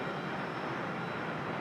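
An airplane takes off from runway 23 right at Raleigh-Durham International Airport, heard as a steady, broad engine roar that holds evenly at moderate loudness throughout, with no voices.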